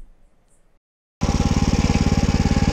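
A Kissan Kraft 5.5 hp mini weeder engine starts abruptly after a short quiet pause, then runs loud and close with a steady, rapid pulsing chug.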